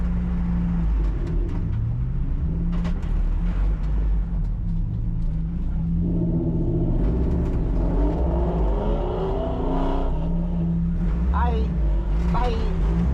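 A car laps the Gingerman Raceway track, heard from inside with a steady engine drone that rises and falls through gear changes and revving, loud and close throughout.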